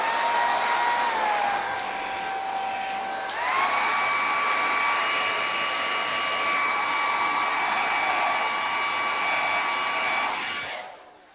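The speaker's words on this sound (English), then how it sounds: "I'm just going to use the hairdryer again just to dry off that bottom layer." A hair dryer blows continuously at close range, its whine shifting pitch once as the speed setting changes, then switches off at the end.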